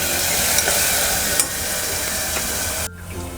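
Onion, tomato and a chili, coriander, ginger and garlic paste sauté in hot oil for a Bihari chicken masala, a steady close sizzle with stirring scrapes throughout, cutting abruptly near the end.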